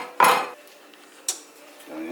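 A pan is handled on the stovetop while butter goes in for a grilled cheese, giving two sharp metallic clanks, one loud near the start and a lighter one later, with quiet gaps between and a soft scrape at the end.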